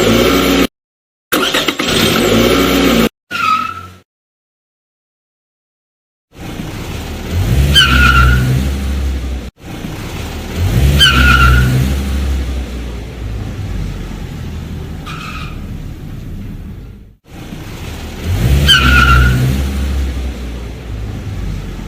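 Cars out on a joyride rev their engines and squeal their tires in loud, repeated bursts, with short silent breaks between the runs.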